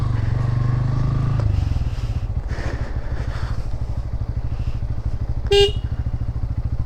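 Motorcycle riding on a road in Tripura bound for Mizoram, a loud close engine drone with a rapid pulsing throb, easing off after a couple of seconds, with a short horn blast near the end.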